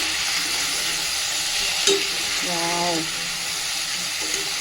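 Tomatoes and curry leaves frying with eggplant in a pan, a steady loud sizzle with a brief spatter and stirring, while a voice speaks over it for a moment.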